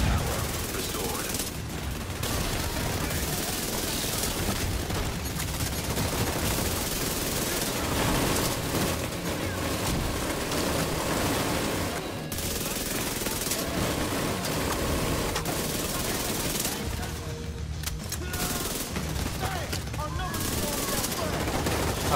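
Sustained minigun fire roars in rapid continuous bursts during a Time Trial on Wall Street in the video game The Division 2 Warlords of New York, loud and dense with brief pauses, alongside game voices.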